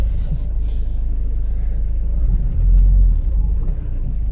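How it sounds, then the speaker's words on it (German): An old car pulling a trailer drives along, giving a steady low engine rumble and road drone throughout, swelling briefly louder midway, with no voices. "Gott sei Dank fährt er jetzt sehr problemlos."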